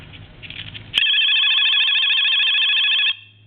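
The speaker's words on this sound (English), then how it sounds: "It's a complete ring circuit, and this one does not sound like the one on the telephone, but I'm going to ring it real quick." An AT&T QCP-31 speakerphone's electronic ring circuit starts with a click, then gives a loud, steady warbling trill for about two seconds before cutting off abruptly.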